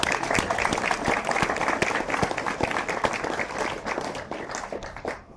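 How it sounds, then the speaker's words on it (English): Sustained applause from an audience at a morning presentation, a steady even patter of many hands clapping that gradually softens and fades away near the end. "Give him another round of applause."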